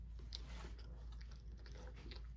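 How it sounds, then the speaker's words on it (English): Someone chews a boiled 1982 canned beef frankfurter with catsup, soft wet bites and mastication repeating quietly and close against low background hum. "I'm gonna chew on it for a little bit,"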